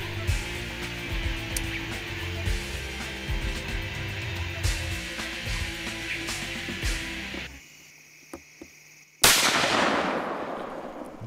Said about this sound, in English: he prepares to take his shot at the monster buck